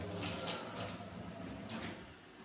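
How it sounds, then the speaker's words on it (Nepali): Tap water pours strongly into a sink in a home kitchen, a steady broadband hiss with a fuller, heavy flow, close and continuous with no talking. "पानी ठुलो आइरहेको छ, राम्रै आइरहेको छ"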